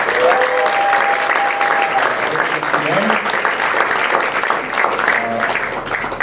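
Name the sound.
audience applause for senator, representative and mayor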